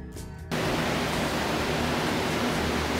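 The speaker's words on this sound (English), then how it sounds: "The roaring sound you can hear are two fans left by the drywall" Two drywall drying fans roar in a house under restoration after Hurricane Irene, switching on after a brief quiet moment into a loud, constant broadband rush that fills the room, with no talking.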